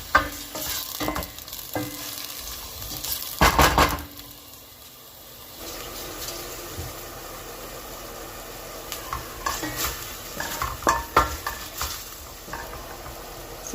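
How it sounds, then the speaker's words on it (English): Garlic fries in a pan for a bolognese sauce, giving a steady close sizzle and crackle, broken by louder bursts of stirring and scraping, with a brief quieter gap midway. "I'm going to allow this to fry for about 2 minutes."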